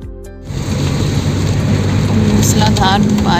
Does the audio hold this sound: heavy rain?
yes